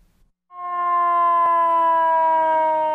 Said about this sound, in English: New York City is looking into changing the sound of sirens on emergency vehicles.